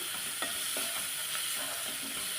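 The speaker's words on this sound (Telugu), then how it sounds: "ఇది చూడండి మెంతి కూర తొందరగా వేగింది" Fenugreek leaves frying in a pan for a home-style onion and flat bean stir fry, a steady close sizzle with a few soft stirring scrapes and no talking.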